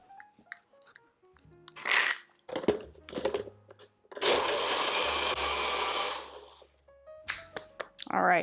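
A NutriBullet blender whirs through sweet potato pie filling in a loud, steady burst of about two seconds, bracketed by shorter pulses, scraping clatter and spoken comments.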